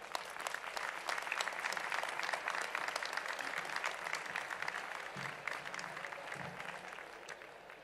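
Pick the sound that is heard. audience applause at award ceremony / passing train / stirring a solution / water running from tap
audience applause at award ceremony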